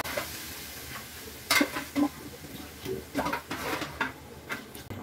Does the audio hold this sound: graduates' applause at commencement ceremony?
no